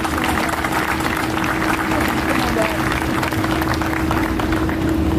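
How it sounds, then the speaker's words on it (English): A crowd at an outdoor opening ceremony applauds service members' families, a dense steady wash of clapping mixed with a constant hum and crowd noise. "please give all the family members of our service people a round of applause also"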